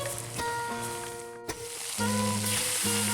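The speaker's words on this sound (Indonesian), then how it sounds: "Selanjutnya, ikan gabus dengan bumbu yang sudah berendam akan kita goreng." Marinated snakehead fish frying in hot oil in a wok over a wood fire outdoors, giving a loud, continuous crackling sizzle with bursts of spattering and a hum running underneath.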